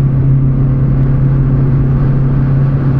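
A Volkswagen Golf 3 with a 100bhp engine on winter tyres, held at full throttle on the Zandvoort circuit, drones loud and steady with a strong constant engine hum and road rumble, no voices.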